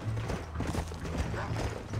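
Horses trotting in the Red Dead Redemption video game, a faint, quick clip-clop of hooves with a brief whinny, set low under ambient game sound.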